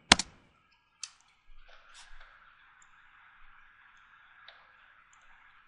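A few sharp, isolated keyboard clicks, then soft scattered tapping over a faint steady electronic hum.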